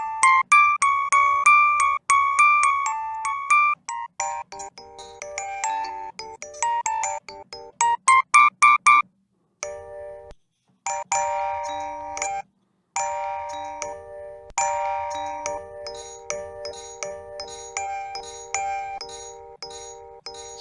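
Metal music box playing a tinkling melody of bright, plucked chime-like notes, clear and close, with ringing decays and brief pauses between phrases.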